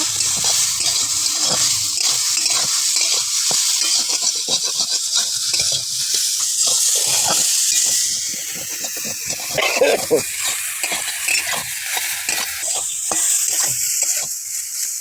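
Ginger and cumin paste sizzles loudly in a hot pan while being stirred, a steady frying hiss with scraping strokes throughout.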